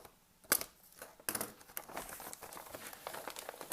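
Plastic MRE ration pouch, a Chili Mac meal, being cut the rest of the way open: close, irregular crinkling and snipping that builds in density, with no one speaking.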